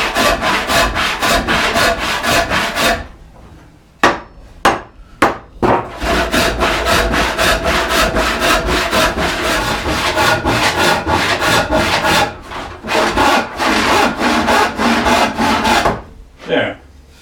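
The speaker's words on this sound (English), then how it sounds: "you have to relax the saw or you'll overcorrect" A hand saw cuts through a wooden stool seat blank in quick, rhythmic rasping strokes, pausing briefly a few times before resuming at a steady pace.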